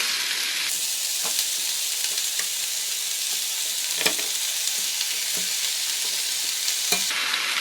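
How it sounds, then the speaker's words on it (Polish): Browned beef oxtails are stirred into carrots, celery and parsley root in a hot pan, giving a continuous loud sizzle with scraping stir strokes throughout and no talking. "Teraz do tego dodam podsmażone ogony."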